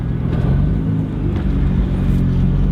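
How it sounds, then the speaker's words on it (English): Nissan R35 GTR rolling over a speed bump, a loud, deep engine rumble with low throbbing pulses and a brief jolt partway through. "We're going over speed bump now."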